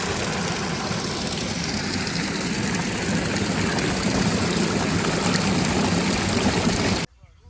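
A village water pump motor running with a dense, steady drone and rushing water noise that holds evenly close by, then cuts off abruptly near the end.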